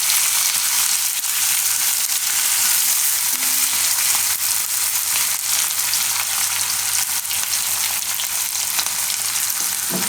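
Green chillies fry in hot oil, a loud, steady, dense sizzle with light crackling throughout and no voices.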